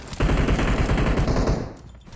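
Automatic gunfire from the mobile battle-royale game PUBG Mobile on the Livik map, a loud sustained burst of rapid shots lasting about a second and a half before tapering off, with no talking.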